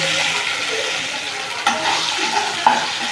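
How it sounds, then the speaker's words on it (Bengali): Onions with ginger-garlic paste fry in a pan as pulao is cooked, giving a steady close sizzle with brief scraping stirs and a couple of sharper clinks near the end; no one speaks. "পেঁয়াজ একটু লাল লাল হয়ে যাচ্ছে, নেড়ে দিলাম।"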